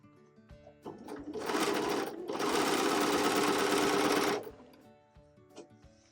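A sewing machine stitches fabric pieces for a facial beauty set, running in two loud, close bursts of rapid mechanical whirring, a short one then a longer steady run, with quiet pauses around them.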